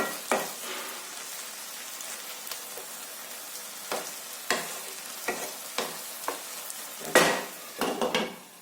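Vegetable masala curry spices cook in a pan with a lid, giving a soft continuous sizzle broken by repeated scraping stirs and clinks of utensil on metal, close and without talk.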